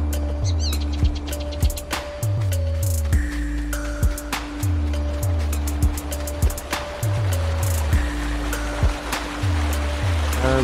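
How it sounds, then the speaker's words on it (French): Rushing water from a waterfall in Farming Simulator 19 plays steadily beneath looping game music with repeating tonal notes and periodic low thumps, the wash continuous throughout. "Une belle cascade."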